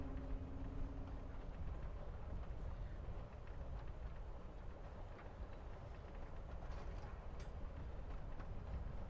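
Inside a moving train in the game Life is Strange: Before the Storm, a low, steady rumble with faint rhythmic clatter runs continuously and quietly with no talk.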